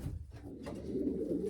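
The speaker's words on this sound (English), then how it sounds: "He's a medium pigeon" A young Staff Van Riet racing pigeon with some Cassart blood coos in low, continuous rolling murmurs, close and steady, with no voices present.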